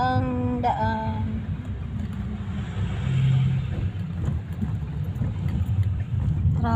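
Road traffic rumbles steadily, a low continuous drone of car engines with occasional swells as vehicles pass, opening with a brief high horn-like tone.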